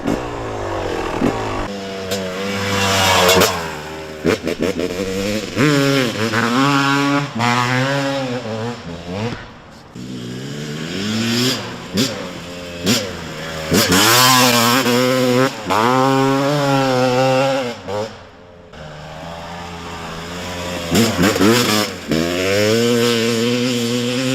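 A 1998 Yamaha YZ250 two-stroke motorcycle ridden up a hill, loud and close, with repeated rising revs and shifts, raspy high-pitched engine wail surging and dropping throughout.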